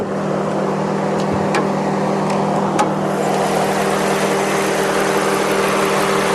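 A 2001 Subaru Outback's 165-horsepower 2.5-liter flat-four idles steadily with the hood open, giving a constant close engine hum with a few faint ticks and no talking; a motor mount is suspected bad, causing heavy vibration.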